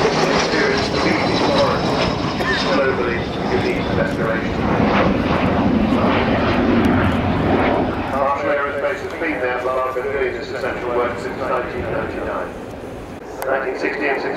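Avro Vulcan XH558 jet bomber at the RIAT airshow, its engines howling loud and close in a sustained, roaring whine that eases slightly toward the end.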